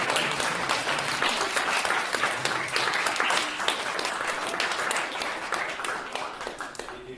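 Steady audience applause fills a hall at a summer music course performance, welcoming a piano class; dense clapping holds at an even level throughout before thinning slightly toward the end.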